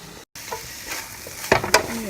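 Ground pork stir-frying in oil sizzles steadily in a pan, with a couple of louder scraping stirs near the end and a brief dropout early on.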